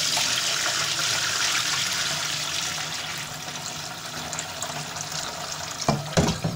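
Liquid pouring steadily off browned minced meat in a pan, a continuous splashing stream that tapers off, followed by a few clinks at the end.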